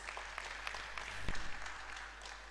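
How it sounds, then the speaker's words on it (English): Audience applause at a University of Lagos convocation ceremony: a faint, steady patter of many hands clapping in a large hall over a low hum, swelling slightly midway and carrying on through the whole stretch. "Please give her a round of applause."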